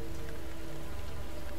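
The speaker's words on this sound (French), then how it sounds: "Sous la pluie." Steady rain falls across surfaces in the Resident Evil 2 (2019) game ambience, a dense, even hiss of drops heard alone and fairly close throughout the short stretch.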